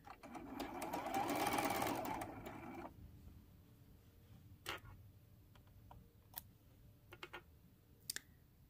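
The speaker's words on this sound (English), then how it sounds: "I'll do a couple back stitches and remove it from the sewing machine" A sewing machine runs in a steady burst of back stitches for a few seconds on a t-shirt quilt seam, then stops, followed by scattered light clicks and taps nearby.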